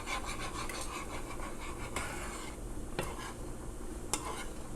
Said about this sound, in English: go ahead and stir it